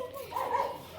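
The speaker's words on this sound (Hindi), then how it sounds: "कुत्ते भौंक रहे हैं।" A dog gives one short, faint bark at a distance, heard alone in a brief moment.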